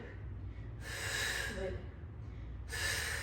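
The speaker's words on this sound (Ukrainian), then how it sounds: "Видих." Two forceful breathy exhales during a Pilates workout, each about a second long and close to the microphone, separated by a quieter pause.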